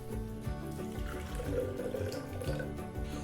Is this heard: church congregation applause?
no